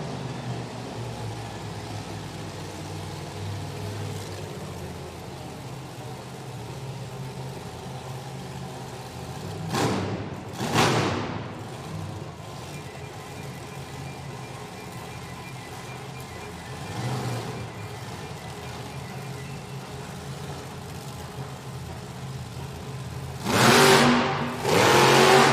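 Jamie Garner's El Toro Loco monster truck revs in a stadium at a Monster Jam event, a distant engine roar swelling in several bursts over a constant crowd and arena rumble, loudest near the end.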